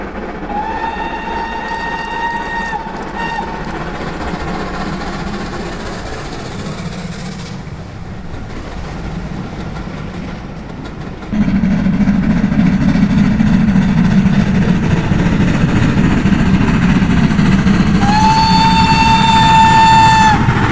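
A GWR 42XX 2-8-0 tank steam locomotive running at speed on the Great Central, its loud rumbling chuff under two whistle blasts, one at the start and one near the end, with the roar swelling midway.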